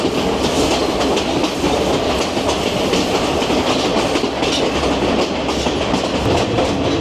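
A passenger train in Sri Lanka rolls along steadily with a continuous rumble and faint rhythmic clatter of wheels on track, heard from inside at a constant level.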